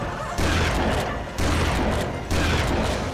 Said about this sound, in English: This shotgun has some serious range.